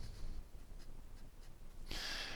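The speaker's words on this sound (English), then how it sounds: "We'll go ahead and write North up here" A pen writing North on a map, heard as faint soft scratching strokes in quiet room noise, with a louder brushing rasp near the end.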